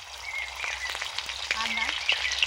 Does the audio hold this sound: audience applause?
no